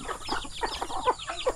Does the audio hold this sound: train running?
no